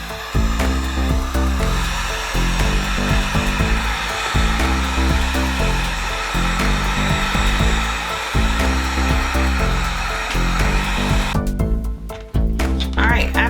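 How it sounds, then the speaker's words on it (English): A heat gun blows steadily to set the finish on a custom Air Force 1 sneaker's lining, a loud continuous hot-air roar with a motor hum running almost the whole time, then cutting off near the end. "I'm gonna have to go in with a heat gun to set it"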